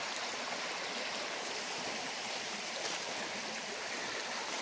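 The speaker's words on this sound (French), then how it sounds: "Voilà le ruisseau" Forest stream running alongside a path, a steady close rushing and gurgling of water with no voices.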